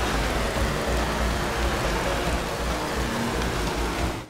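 Heavy rain in the Valentino Rossi: The Game motorcycle racing game, a steady loud broadband hiss that holds evenly for several seconds under a low rumble, with no voices over it.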